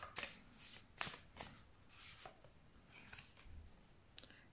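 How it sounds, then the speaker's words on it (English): Tarot cards are shuffled in several quick riffling bursts, crisp and close, with short pauses between them in a quiet room. "I'm going to shuffle some more cards to see about them."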